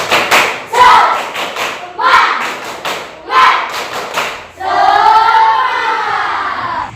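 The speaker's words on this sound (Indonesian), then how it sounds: "Coba semuanya tepuk semangat." Classroom group doing a rhythmic tepuk semangat clapping chant: several bursts of sharp claps in a set pattern with children's voices chanting along, then a sustained shout from the group near the end.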